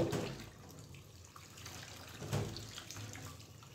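Eggs washed under a running kitchen tap: a faint, steady stream of water splashing into a sink, with brief louder gushes as the flow is disturbed.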